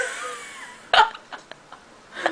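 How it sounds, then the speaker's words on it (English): A person lets out one sharp burp followed by a few short, softer gulping bursts and a final small belch, heard close up. "Why am I burping so much?"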